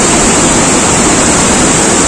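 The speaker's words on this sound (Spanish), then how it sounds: "allá al fondo vemos el río," Small waterfalls and a river below the Pextlán bridge near Xico, Veracruz, heard as a loud, steady broadband rush of falling and flowing water that fills the whole stretch without pause.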